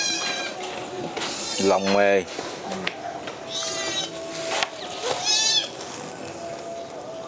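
A cat meows several times, a prolonged wavering call plus shorter mews, close by in a home kitchen while hot food is served, with people chatting in Vietnamese throughout.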